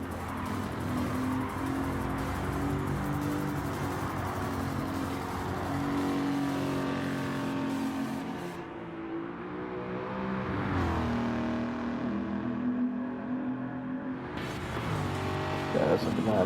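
A 2014 Jaguar F-Type R engine in a racing video game, tuned to 600pp with seven gears, roars continuously under hard throttle with rising revs and gear shifts, loud and close, while a voice talks over it.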